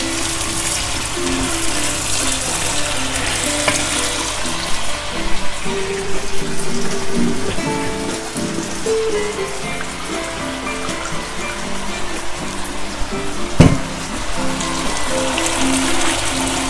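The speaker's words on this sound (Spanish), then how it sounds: "Ahora es nuestro momento de ponerle el agüita" Water poured into a pan of frying garlic and pumpkin sets off a dense, crackling sizzle and bubbling hiss, loud and close, with one sharp clatter near the end.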